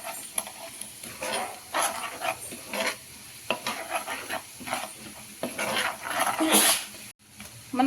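Onions fry in a pan with spices, a steady sizzle broken by scraping stirs, with a few brighter bursts near the end.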